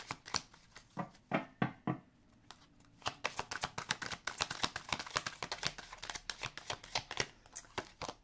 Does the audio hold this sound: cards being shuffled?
yes